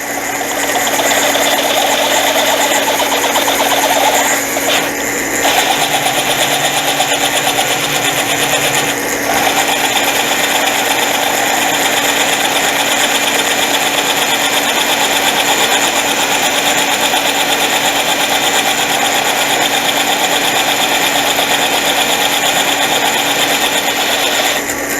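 Frankford Arsenal case trimmer fitted with a cheap replacement cutter, shaving a brass cartridge case with a steady loud motor whine and a grinding cutting rasp that carries on with brief dips, close and with no talk.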